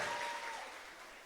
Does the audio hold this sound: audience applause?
yes